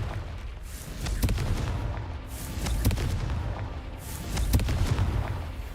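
Confringo blasting spell explosions in a Hogwarts Legacy wizard game: several deep booming blasts with sharp cracks, recurring about once a second over low rumbling, loud and close.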